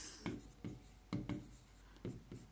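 A maths question is written out by hand at close range, in a series of short scratchy strokes with brief pauses between them. No one speaks.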